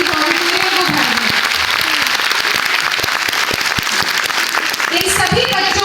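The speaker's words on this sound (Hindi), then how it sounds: "एक बार फिर से तालियों की गड़गड़ाहट से इस ऑडिटोरियम को भर दें।" An auditorium audience at a school cultural and annual day stage play fills the hall with loud, dense, continuous applause, and a voice joins near the end.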